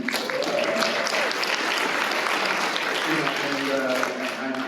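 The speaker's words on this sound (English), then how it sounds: "clap it up here in the front" An audience claps at a talk on multiracial union organizing, a moderate wash of applause with voices murmuring and speaking through it, fairly even from start to finish.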